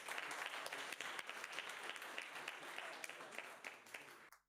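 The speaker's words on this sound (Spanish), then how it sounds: "Un fuerte aplauso para él" An audience applauds a speaker at a cheese shop gathering, a steady, dense patter of many clapping hands heard quite faintly, cutting off abruptly at the end.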